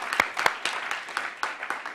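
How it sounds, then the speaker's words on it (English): A small crowd claps at a health equity event, with scattered, uneven claps rising and falling rather than a full, dense ovation. "so come on, we can applaud"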